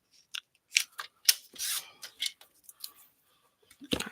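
Scissors cut card stock for craft tags at a tabletop, with a string of short, crisp snips and one longer slicing stroke, close up and fairly quiet with brief gaps between cuts.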